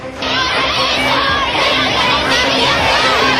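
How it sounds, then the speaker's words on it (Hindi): A large crowd of protesters shouts and chants slogans together, a loud, dense, continuous wall of raised voices close by, including young women's cries, with no gaps throughout. "नारे लग रहे हैं, बेटियां चीख रही हैं"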